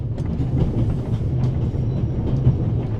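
Train rolling steadily in The Raven Remastered video game, a continuous low rumble with faint rhythmic clatter throughout, loud and close, with no talking.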